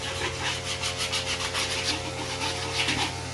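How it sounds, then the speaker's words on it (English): Bottoms of uneven wooden coffee table legs being sanded: rhythmic, scratchy rasping strokes that repeat steadily over a constant mechanical hum. "some of the legs are uneven, so we're going to sand this off"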